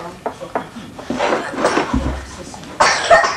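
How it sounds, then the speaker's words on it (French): A child coughs several times in short bursts amid clattering objects and household bumps, close by, with some talk mixed in. "Tu tousses?"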